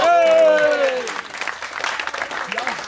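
Audience at a Dutch club award ceremony with flowers bursts into a shout and then claps together, a dense burst of hand claps mixed with voices, fading into scattered applause under continuing chatter.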